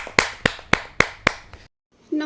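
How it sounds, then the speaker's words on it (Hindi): Five sharp, evenly spaced claps ring out at a Hindi poetry gathering, a kavi sammelan, then stop abruptly into silence. "जोरदार ताली के साथ"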